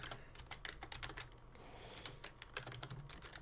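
Quiet, close clicking of a computer keyboard while code is typed: quick irregular bursts of keystrokes with brief pauses, soft and steady throughout, with no talking.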